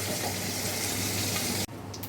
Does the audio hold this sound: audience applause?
no